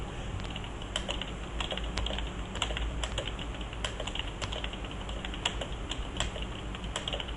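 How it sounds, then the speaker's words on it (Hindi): Fast typing on a computer keyboard, a rapid, uneven stream of close key clicks that runs continuously throughout, with no voices. "मैं तेज़ से टाइप करने की कोशिश कर रहा हूँ"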